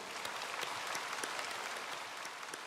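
A church congregation gives a round of applause, a fairly distant, even wash of many clapping hands held steady throughout.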